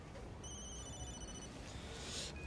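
A telephone rings with a steady electronic trill, moderately faint over a dense background hiss, breaking off near the end.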